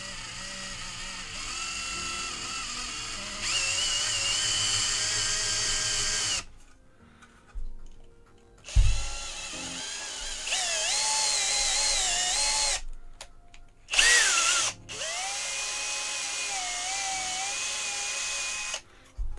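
A handheld power drill bores a 5.5 mm hole while a Riden RD6012 power supply is being modified, with loud, steady whining runs broken by short pauses and restarts.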